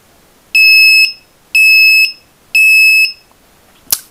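A piezo buzzer on an Arduino multi-function shield sounds a countdown timer alarm: three loud, shrill half-second beeps at an even pace, followed by a short click.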